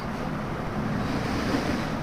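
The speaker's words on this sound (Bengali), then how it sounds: "কাশবনের ভিতরে ঝিরিঝিরি বাতাসে বিকেলবেলা" Afternoon breeze blowing through a field of kash grass, a steady loud rushing wind noise filling the whole stretch without pause.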